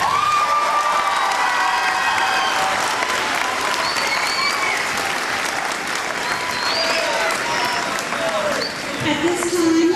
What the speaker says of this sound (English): let's go ahead and give these 8th graders a round of applause.